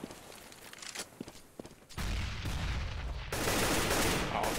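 Gunfire in Counter-Strike on the de_dust2 map: scattered light shots and clicks at first, then a sustained loud burst of rapid automatic fire that grows denser and stays constant until the end.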